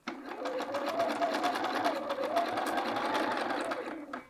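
Sewing machine stitching a quilted jacket collar onto a curved neckline, a steady fast whir of the needle running continuously for a few seconds.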